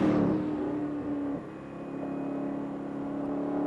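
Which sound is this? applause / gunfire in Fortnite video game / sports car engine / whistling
sports car engine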